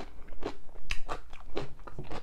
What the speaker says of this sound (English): I have my mic on so you can get that sound effect of the crunch.